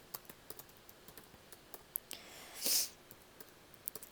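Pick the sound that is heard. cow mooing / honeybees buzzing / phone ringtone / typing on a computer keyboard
typing on a computer keyboard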